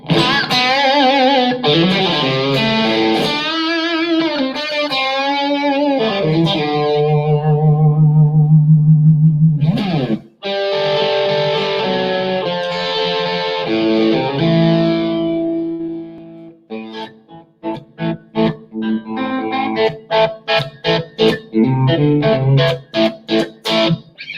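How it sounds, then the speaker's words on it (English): Electric guitar through a Blackstar amp on an EL34 British preset with room reverb, giving an early-70s British studio tone: overdriven chords and sustained single-note lines, then choppy rhythmic strumming, loud and close with no talking. "Preset number 3, I've gone for EL34 British, a room reverb to recreate those classic studio tones."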